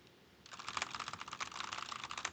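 Steady rapid typing on a computer keyboard, a dense run of quick clicks starting after a brief quiet moment and continuing close and clear with no talk.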